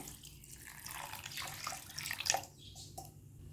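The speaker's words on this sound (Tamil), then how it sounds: "இப்போ இந்த பருப்பு மூழ்கிற அளவுக்கு தண்ணி வந்து சேர்த்துக்கிறேன்" Water pours in a soft, steady stream into a container of lentils, splashing lightly and gurgling before easing off near the end.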